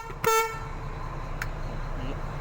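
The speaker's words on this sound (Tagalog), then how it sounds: "Busina." A single short Shacman truck horn honk sounds near the start, loud and close, followed by quiet idling background with a faint click.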